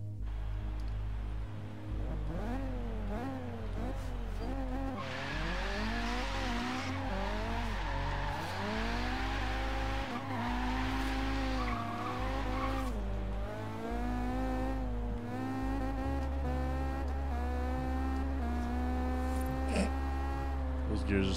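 A Mazda MX-5 Miata drift build in Forza Horizon 3 revs hard through short, close gears, its engine note climbing and dropping repeatedly with tire squeal, loud and continuous.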